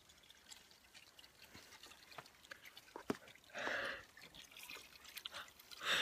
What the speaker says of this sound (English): I will show you now where I get my spring water.